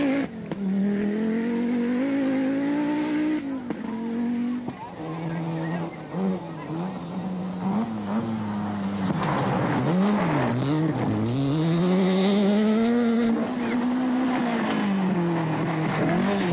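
A Nissan rally car's engine revs and climbs through gears on a dusty Acropolis Rally stage in Greece, loud and close, with pitch swooping up and down through hairpins and shifts, running continuously under a commentator's voice.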